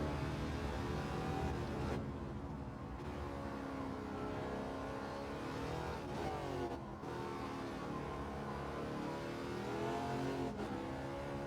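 A Wicked Fabrication GT 51 race car revs hard through fourth gear on the Grand Valley South circuit in Gran Turismo 7, its engine roaring loudly and steadily for the whole stretch with brief dips at gear changes.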